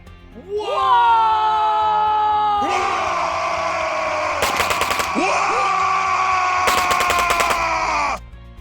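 Video game gunfire emptying a magazine: two rapid bursts of automatic shots ring out over a loud, sustained droning tone with rising and falling pitch, the whole scene dense and close.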